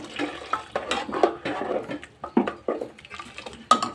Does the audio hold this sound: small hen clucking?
no